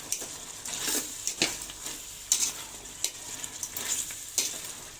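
Chicken being stirred in a frying pot for Khmer sour soup, with a steady sizzle and repeated scraping strokes of the spoon against the pot, close and fairly loud.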